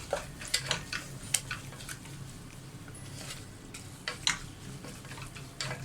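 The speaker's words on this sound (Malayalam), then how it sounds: "എന്നിട്ട് നന്നായിട്ടങ്ങ് വഴറ്റി കൊടുക്കാം" Chilli powder and Hyderabadi biryani masala sautéing in a pan, giving a soft, steady sizzle with scattered scraping and stirring clicks, faint and close, with no talk.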